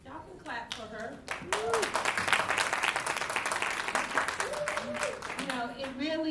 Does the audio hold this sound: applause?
yes